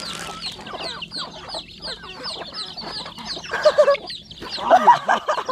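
Farm chickens cluck repeatedly in a hot coop, close and fairly loud, with louder bursts of clucking toward the end and a steady low hum underneath.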